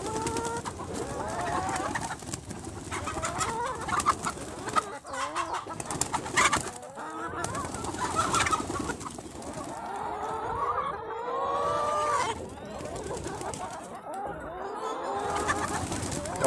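Chickens cluck and call inside a wet, muddy chicken shed, a busy continuous mix of bird voices at close range with a steady background hum.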